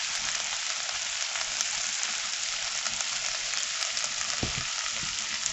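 An egg sandwich frying in a pan gives off a steady, close sizzle with fine crackling throughout, plus a brief low knock near the end.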